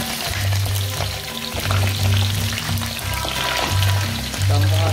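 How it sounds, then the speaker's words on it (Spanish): Lobsters frying in very hot oil in a pan for a Salvadoran mariscada, a steady close sizzle and crackle with bubbling pulses throughout. "Vamos a sofreír las langostas."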